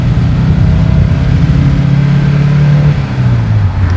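A 1973 BMW 2002 Tii engine accelerating from inside the car, a loud steady drone that rises in pitch, then dips briefly at a gear change before climbing again.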